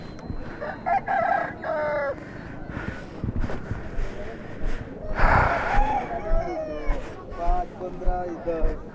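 Roosters at a village cockfight in a Chhattisgarh market crow loudly nearby, with sharp repeated calls and bursts of scuffling over a busy crowd and voices.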